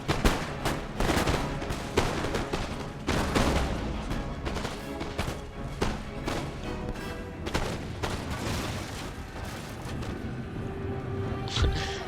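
Musket volleys and scattered gunfire crackle continuously during a fort battle in Empire: Total War, dense overlapping shots and booms at steady loudness with no pauses.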